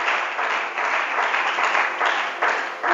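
A church congregation applauds the Holy Spirit with steady, dense clapping from a large crowd, continuous for the whole stretch with slight swells and no voices.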